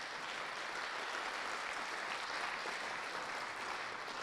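An audience at an inaugural family and marital counselling event for uniformed officers claps steadily, a dense, even wash of applause heard from a little distance, fairly faint and without talk.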